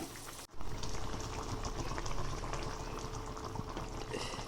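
Fish curry made with kudampuli bubbles at a steady boil in a pot, a dense continuous sizzle and bubbling heard up close after a brief knock.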